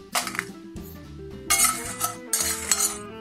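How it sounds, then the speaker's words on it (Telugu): A spoon scrapes and clinks against a heated pan while coriander seeds, cumin and whole garam masala are dry-roasted, giving close, intermittent metallic clatters in uneven bursts. "ఫస్ట్ పాన్ కొంచెం హీట్ అయిన తర్వాత 2 స్పూన్ల ధనియాలు, 1 స్పూన్ జీలకర్ర, హోల్ గరం మసాలా"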